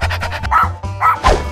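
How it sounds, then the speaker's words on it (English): A dog barks three or four times in short, sharp bursts over a steady low background hum, each bark clear and close. "Dog."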